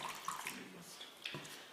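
Water is poured into acrylic paint to thin it, making a faint, close trickle with a few light splashy clicks and a soft wash of hiss and no voices.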